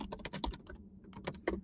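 Rapid keystrokes on a computer keyboard while editing text in a prompt-writing tool, a dense burst of clicks, a brief pause, then a few more taps, close and clear with no talk.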